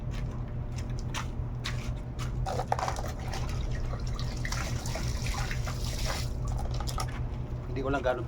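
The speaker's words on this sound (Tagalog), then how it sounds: "Oops, maapaw na yung tubig." Water runs steadily from a tap into an overflowing basin during hand-washing of clothes, a continuous splashing and dripping spread over the whole stretch, fairly quiet and unaccompanied by talk.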